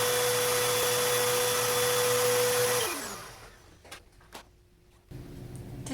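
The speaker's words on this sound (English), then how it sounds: "You may need to vacuum your furniture as well, so we'll dial the vacuum to tools and then detach the vacuuming arm." A vacuum cleaner with its tools attachment runs with a steady loud whine on furniture, then powers down, followed by a few soft knocks and handling sounds.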